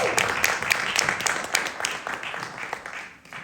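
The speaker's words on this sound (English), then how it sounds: "And I think another round of applause is due." An audience at a film talk with a director at a Toronto community centre claps in a steady, dense round of applause that fills the room and tapers off toward the end.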